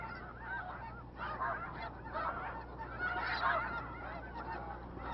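Many migrating geese honk together at the Blackwater refuge, a dense continuous chorus of overlapping calls from a resting flock, fairly faint and distant over a low steady rumble.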